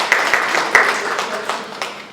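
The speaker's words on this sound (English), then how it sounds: "let's give him a round of applause." Brief round of applause at a city council committee meeting, a room of people clapping moderately loud for a couple of seconds, fading toward the end.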